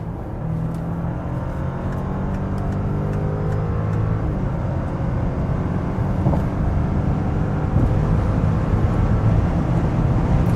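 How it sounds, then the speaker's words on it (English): A VW Touareg R plug-in hybrid SUV with 462 hp, in sports mode, pulls hard from 100 km/h toward 180 km/h with all-wheel drive. A steady, close drone of engine and road noise rises gradually, with no voices. "So from 100 kilometers or 60 miles, we accelerate further out in the sports mode."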